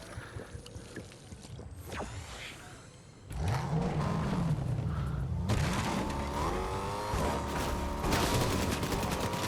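Gunfire and game action in Fortnite, with bursts of rapid shots over a busy mix of engine-like drones and effects, continuous and fairly loud after a quieter opening few seconds.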